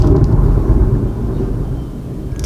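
Deep thunder from a Texas storm rumbles steadily, a heavy low roll that stays loud and continuous with no voices over it.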